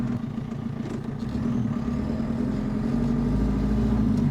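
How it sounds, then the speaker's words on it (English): A JCB 4.4 four-cylinder industrial diesel fitted in a Land Rover Defender runs at a steady low rumble, heard from nearby with a gradual slight rise in level and no voices. "It's not rowdy, it's 4-cylinder diesel."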